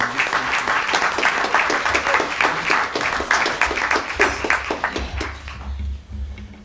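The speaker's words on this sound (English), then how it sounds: "Let's give them a round of applause." An audience at a school board meeting breaks into steady, loud applause for award recipients, many hands clapping continuously before tapering off near the end.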